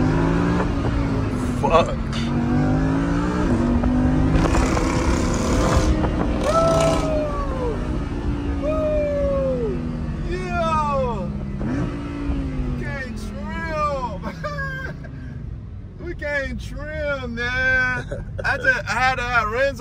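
Lamborghini sports car engine revving while driving, its rising and falling whine and roar heard close by under frequent loud talking and exclaiming from people inside.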